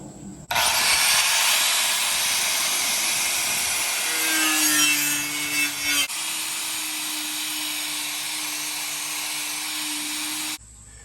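A saw cuts through small wooden partitions inside a trailer with a loud continuous rasping buzz lasting several seconds, the tone shifting slightly midway before it stops abruptly.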